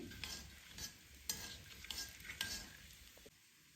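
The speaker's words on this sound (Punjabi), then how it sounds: "ਤੇਲ ਗਰਮ ਹੋ ਗਿਆ 1 ਚਮਚ ਜੀਰਾ ਐਡ ਕਰ ਦੇਵਾਂਗੀ ਜੀਰੇ ਨੂੰ ਹਲਕਾ ਜਿਹਾ ਭੁੰਨ ਲਵਾਂਗੀ" Cumin seeds roast in hot mustard oil in a wok, a soft sizzle broken by quiet scraping and stirring strokes before it fades.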